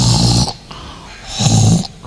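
A voice imitates a husband's heavy snoring, two loud, rough snores with a pause between them, close and alone without other talk.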